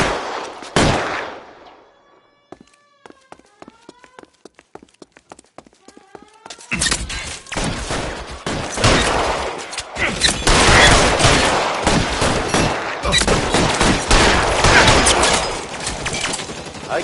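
L.A. Noire gunfire opens with a sharp shot, falls to a quiet stretch, then breaks into a long, loud, continuous barrage of rapid shots and cracks with voices faintly under it.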